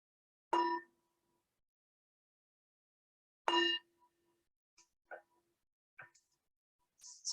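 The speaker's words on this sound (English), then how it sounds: "So the bell invites us to bring the awareness back to the surface from the body." A meditation bell rings twice, several seconds apart, each strike clear and close with a short fading tone, followed by a few faint soft knocks and clicks in an otherwise quiet room.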